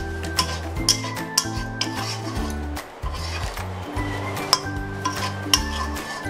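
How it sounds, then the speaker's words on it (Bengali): Butter stirred into spices in a cooking pan for a paneer dish, with repeated clinks and scrapes of a utensil against the pan over low sizzling and a steady background drone. "বাটারটা দিয়ে আমি ভালো করে মশলাটার সাথে মিশিয়ে দিচ্ছি"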